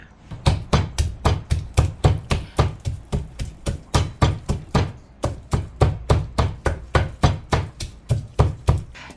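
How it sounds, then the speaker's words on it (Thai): Chilies and garlic pounded in a mortar with a pestle, a steady run of about thirty loud, close thuds in an even, quick rhythm with no talking. "เด็ดบักพริกใส่กระเทียมนะคะ แล้วก็ตำค่ะ"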